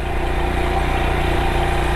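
A Royal Enfield Himalayan motorcycle engine runs steadily at a low, even idle-like rumble, loud and close, with no talking.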